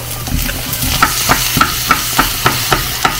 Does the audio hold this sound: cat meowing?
no